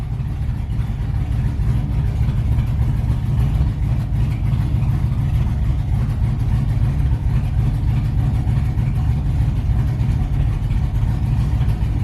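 An LS-swapped S10 drag truck with throttle hang holds a loud, steady, deep engine rumble at high idle, close by and unbroken for the whole stretch.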